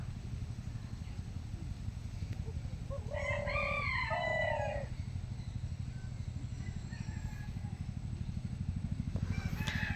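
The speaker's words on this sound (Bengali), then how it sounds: "ঘুঘুটা যতবার ডাকতেছে ততবার মোরগটা ডাকতেছে।" A rooster crows once, fairly close, in a village, a strained rising call lasting about two seconds, over steady low rumbling background noise.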